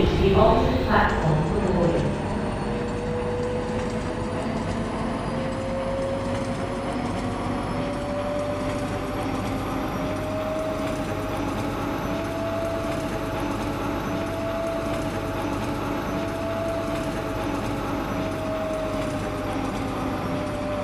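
An automated Roblox airport transit train at Westwood Airport pulls away from a station, a steady rolling rumble with a rising whine that holds level throughout after a brief louder start, and an announcement voice over it.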